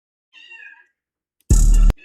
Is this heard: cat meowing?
yes